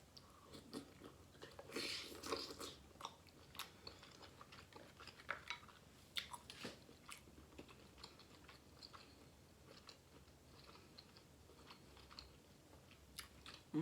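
Seafood boil lobster tails are bitten and chewed up close, giving faint wet crunches and smacking clicks in an uneven rhythm over a quiet background.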